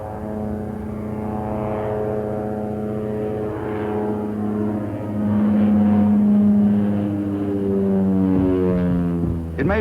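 A propeller airplane drones overhead, its loud, steady engine hum swelling slightly as it passes, with no voices.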